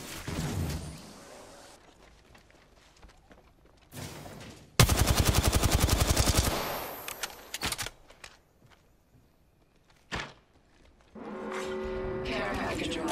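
Gunfire in an Apex Legends Arenas match, with loud close bursts of rapid automatic fire and sharp single shots, broken by gaps, footsteps and mechanical game effects, while game voice lines sound at times.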